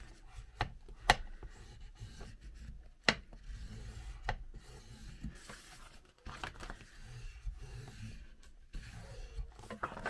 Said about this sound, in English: I'm going to take my bone folder and give it a really nice burnish